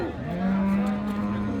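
A cow moos at a busy rural cattle market in Raniganj, Dinajpur, where medium-sized Friesian dairy cows are sold; one steady, sustained low moo carries over the crowd's background noise.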